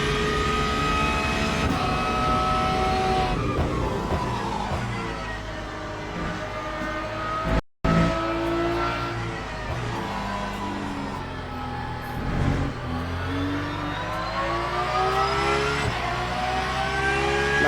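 Porsche 992 race car engine in a Le Mans racing video game, revving and shifting continuously through chicanes, with pitch rising and falling between gears and a short dropout midway.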